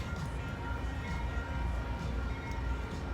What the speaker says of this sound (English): Oh, there's the Amtrak.